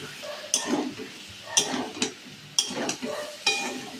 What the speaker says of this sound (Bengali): জল দিয়ে আবার একটু কষাবো